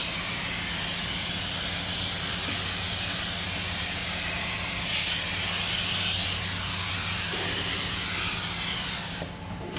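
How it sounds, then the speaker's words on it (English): A continuous, loud hiss of hydrographic film activator spraying from a nozzle, steady for nearly ten seconds before cutting off abruptly at the end. "get our activator, spray it on."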